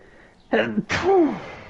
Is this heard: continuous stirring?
no